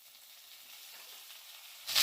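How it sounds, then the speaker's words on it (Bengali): Fried potatoes sizzle softly in a pan, then a loud, sudden hiss bursts out as chopped tomato is dropped in near the end. "কুচি করে রাখা টমেটোটা দিয়ে দেবো।"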